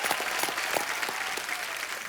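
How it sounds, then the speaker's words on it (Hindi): A studio audience at a televised comedy show claps steadily and fairly loudly, with continuous dense clapping and no talking over it. "जोरदार तालियां भी इनके लिए"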